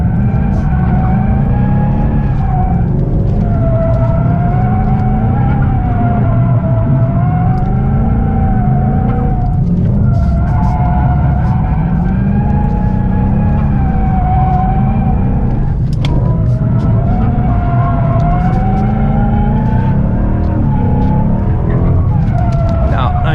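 Car drifting with the rear end kicked out on hot tires, a loud continuous engine roar that rises and falls through the whole stretch, with tire skidding mixed in close by.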